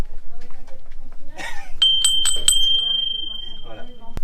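A bright notification bell chime rings three quick times, then one clear tone sustains for about a second, set among brief spoken words before and after.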